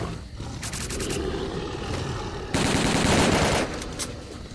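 Rapid automatic gunfire in S.T.A.L.K.E.R. Call of Pripyat, with bursts at the start, then a dense, loud stretch of sustained shooting in the middle that cuts off near the end, set against a rumbling game background.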